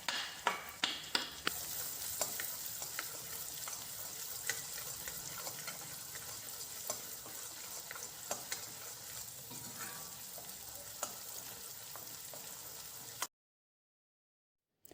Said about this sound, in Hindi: लहसुन की कलियों को हम हल्का सा कुक कर लेंगे ताकि जो भी कच्चापन हो लहसुन का निकल जाए